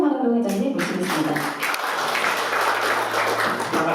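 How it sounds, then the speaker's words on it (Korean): An audience at the Atlanta chapter launch event of the Kim Dae-jung Foundation applauds to welcome a speaker to the stage, producing a dense, sustained patter of clapping that fills the room for several seconds. "큰 박수로 한우동 회장님 모시겠습니다."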